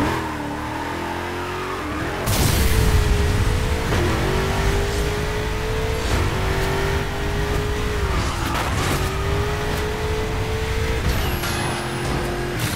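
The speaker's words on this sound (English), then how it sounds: "Hold the accelerator to fire up the engine." Car engine in the Burnout Paradise racing game revving through repeated rising pitch sweeps after a sharp start, loud and close with tire noise and a faint whine, no voices.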